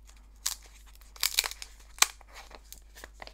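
Paper wrapping on a Samsung Galaxy A35 phone crinkles and crunches as it is handled, with several short, close rustling bursts and faint quiet gaps between them.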